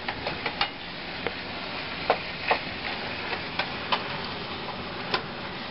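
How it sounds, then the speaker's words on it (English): Hamburger meat browns in a pan with a steady sizzle under repeated ticking scrapes of a utensil stirring it. The scrapes come irregularly and sound close. "I'm going to give our hamburger stir over here"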